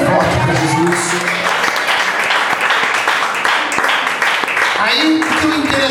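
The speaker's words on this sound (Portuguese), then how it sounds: "Dê uma salva de palmas bem forte para Jesus." An energetic church congregation applauds during a communion and consecration service, with a loud, continuous wash of clapping mixed with crowd noise and voices speaking and singing over it.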